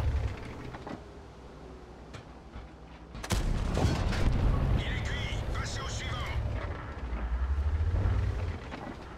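A tank gun fired in a video game, one heavy blast partway through followed by a long rumbling roar, with someone talking loudly over the game sounds.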